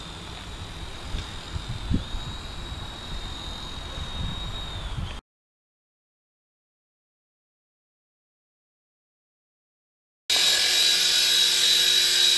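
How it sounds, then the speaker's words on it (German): A SpyCam 2 Silverlight indoor model helicopter flying outdoors in wind gives a thin, high whine with gusty rumble. The sound cuts to silence midway, then returns as a louder, harsher buzz. "der Heli hat mit dem Wind ganz schön zu kämpfen"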